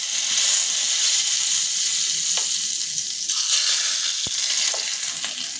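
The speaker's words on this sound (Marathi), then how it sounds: "आता इथे मी तेल गरम केलेलं आहे त्याला आपण तडका देऊयात त्याच्यामध्ये मी मोहरी टाकून घेते हिंग आणि कढीपत्ता टाकूया" Mustard seeds, asafoetida and curry leaves sizzle and crackle steadily in hot oil for a tempering, with occasional pops and a continuous bright hiss throughout.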